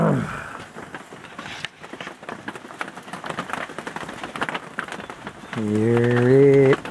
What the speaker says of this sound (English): Do love the sound of the rain on the kitchen roof.